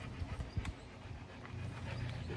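A dog pants in quick, faint breaths that are half buried under steady background hiss. No one speaks.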